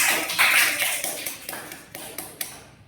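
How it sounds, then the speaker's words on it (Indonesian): Scattered classroom applause greets a student walking up to the front, a short burst of several sharp claps that thins out within a few seconds, with no talking. "Tepuk tangannya dong."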